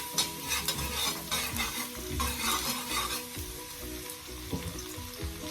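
Onions frying in a pan for jerk shrimp fried rice give a steady close sizzle, stirred throughout with scraping and clatter, no voices.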